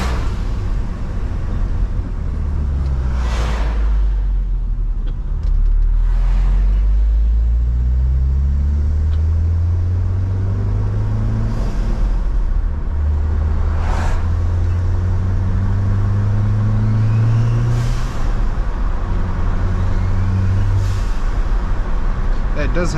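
Audi A4 on its first drive after coilovers were fitted, steady low engine and road rumble from inside the cabin with a few brief sharper noises over it.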